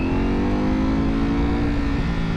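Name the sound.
Ducati V4 motorcycle engine revving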